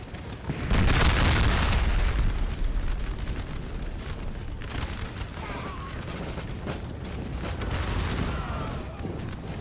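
Massed musket volleys in the game Napoleon Total War roll out as a dense, rumbling fusillade of overlapping shots, loud at first and continuing in waves beneath someone talking.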